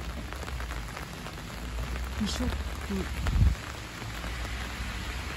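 Steady rain falls outside a church in Maebashi, a close, even hiss of drops on hard surfaces that lasts the whole time, with brief speech over it partway through.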